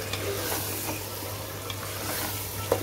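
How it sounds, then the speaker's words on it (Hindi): Mutton browning with spices in a pan gives a low steady sizzle and frying hiss, broken by a few soft stirring scrapes and one brief clink near the end, with nobody speaking. "इसको मटन को हमें मसाले के साथ भी अच्छे से भूनना है"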